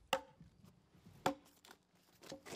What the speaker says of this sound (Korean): 거침없는 손길로 나무를 내리치며 건목 작업이 시작됩니다